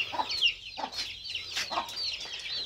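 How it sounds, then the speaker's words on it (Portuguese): A free-range Gigante Negro hen raising 27 chicks, clucking in short repeated bursts close by, mixed with high, thin peeping from the chicks. "Uma galinha criando 27 pintos."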